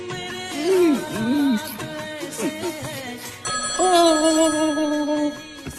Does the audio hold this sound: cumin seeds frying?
no